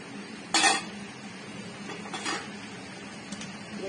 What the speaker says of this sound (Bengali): এটা ভালো করে এবার মিক্সিং করব